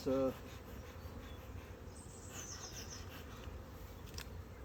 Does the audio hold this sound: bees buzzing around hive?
yes